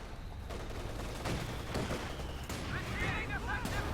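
Mortar barrage and rifle fire in Company of Heroes 2, a dense mix of distant booms and crackling shots layered under battle noise, with a voice speaking over it.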